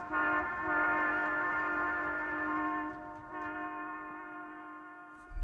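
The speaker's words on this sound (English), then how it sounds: "If the train is receding, the waves are stretched and the note is lower." A sustained train horn blares with a steady, chord-like tone, holding loud for a few seconds before easing off as the train moves away.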